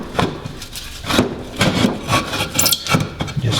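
A block of scrap wood is jammed into the mulching cut-out on the side of a lawn mower, giving close, loud scraping and rubbing knocks of wood against metal in a loose, irregular rhythm.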